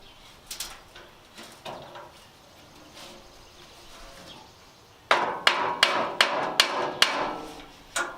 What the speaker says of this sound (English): Now I'm taking a hammer and tapping the angles up so that they line up